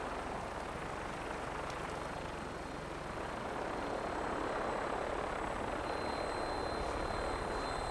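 A helicopter in a video game drones steadily and fairly loud, a continuous rotor and engine roar that holds through the whole stretch with no talk over it.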